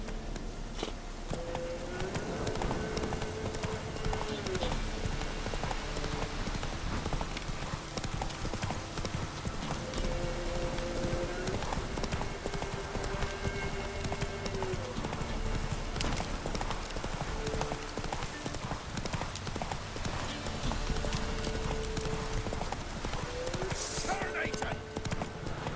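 Horse hooves clip-clop in a steady galloping rhythm in The Witcher 3: Wild Hunt, continuous and fairly close over a background game score, with occasional snorts and a rider's voice in the mix.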